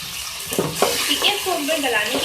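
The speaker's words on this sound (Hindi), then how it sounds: "इसको हम गलाने के लिए इसमें पानी ऐड कर रही हूँ 1 गिलास।" A glass of water poured into a pan of frying onion chicken, a short wet splash and bubbling hiss over the sizzle, with someone speaking throughout.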